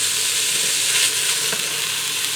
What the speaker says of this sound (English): I'm going to allow that to saute in there with the ground beef as it browns.